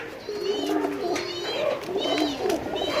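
Racing pigeons coo in a loft, repeated soft rolling coos with a few higher calls, close and steady, with someone talking faintly in the background.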